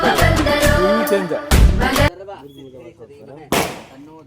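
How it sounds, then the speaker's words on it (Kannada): Deepavali firecrackers go off in a few loud, sharp bursts separated by pauses, close by, while people talk loudly over and between the bangs. "ಪಟಾಕಿ ಹೊಡಿತಾವ್ರೆ."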